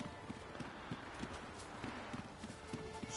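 Steady clip-clop of horse hooves at a walking rhythm in The Witcher III on PS5 plays under a hissy, busy background.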